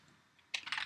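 A short burst of quick, faint keystrokes on a computer keyboard, heard alone against a quiet background.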